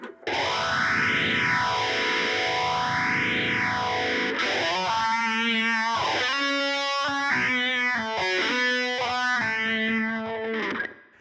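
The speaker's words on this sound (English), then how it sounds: "exactly the same pedal combination as the filter sounds, but it changes the HX1 to be doing that phaser" Electric guitar through a pedalboard with an HX1 phaser, sweeping swirls rising and falling in a slow regular cycle over a sustained distorted tone, then a run of picked notes carrying on the same sweep, loud and continuous with no talk.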